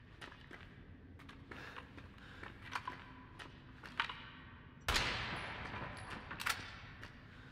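Submachine gun fire in the Resident Evil 7 video game, several short bursts of rapid shots at moderate distance, with a louder, denser burst of gunfire and clatter near the end, over a low game ambience.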